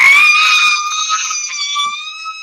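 A woman lets out a long, loud, high scream that holds steady for over two seconds and then tapers off, with no talking over it.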